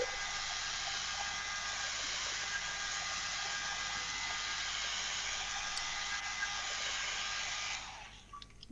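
A VS Sassoon hairbrush-style hair dryer blows steadily to dry alcohol ink for a papercraft project, a loud, even broadband whoosh that holds for about eight seconds before switching off near the end.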